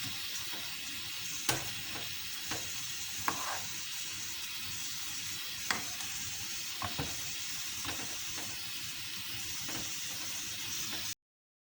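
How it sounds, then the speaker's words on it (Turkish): Grated carrots and onions sauté in a pan with a continuous, close sizzle, broken by occasional sharp clicks and scrapes of stirring. "Evet havuç ve soğanlarım da sotelendi, kavruldu."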